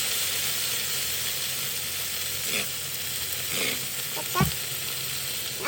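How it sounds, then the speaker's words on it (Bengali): Ginger stir-fries in a hot pan with soy sauce, white pepper and tasting salt, giving a loud, continuous sizzle with a few scraping stir strokes and a sharp clack near the end. "এখন একটু আদা ভাজা হয়ে গেছে"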